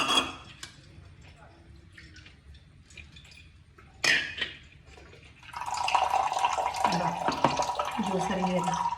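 Freshly blended amla juice trickles and drips through a strainer into a vessel, starting faint and growing into a steady pouring stream in the second half, with a few kitchen clinks early on.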